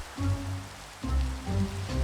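Rain falls in a Minecraft game world, a steady soft hiss of water with a low rumbling bed underneath, continuous and fairly quiet throughout.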